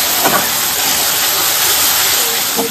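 Tomato paste and spices fry in a pan for a vegetarian potato dum, a loud, close, steady hiss with a couple of brief scraping stirs, no voices.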